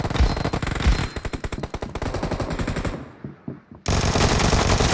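Loud, close automatic gunfire in the battle-royale game PUBG: a dense rapid burst that thins into scattered shots, drops to near silence, then resumes as another heavy continuous volley.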